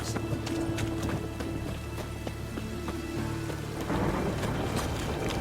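Steady rain hiss in The Witcher 3, a continuous wash of noise with scattered soft taps and a low background hum, rising slightly louder near the end, with no voices.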